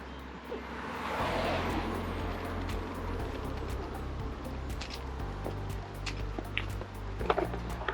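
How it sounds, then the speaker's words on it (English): Cars passing on a road while a family walks along it in the Lake District, a steady rumble of traffic swelling and fading as vehicles go by close to the microphone, with scattered bumps of handling noise. "You probably can't hear anything I'm saying because of all the cars."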